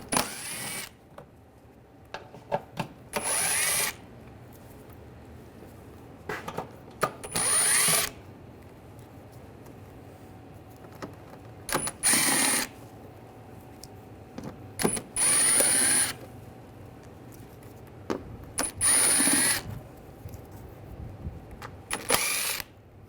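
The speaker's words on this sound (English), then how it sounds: "Use an 8mm socket. Take these screws out." A power tool with an 8mm socket backs out shield screws under a 2009–2010 BMW 535i xDrive, giving about six short, loud whirring bursts separated by quiet pauses in a garage setting.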